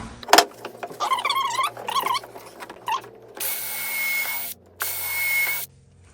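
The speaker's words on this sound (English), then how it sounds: "And I'll just go ahead and screw that first piece in." A power drill drives a screw into a 2x4 wood frame for a workbench: short whirring bursts, then two longer sustained high-pitched runs of the motor, close and loud, with brief pauses between.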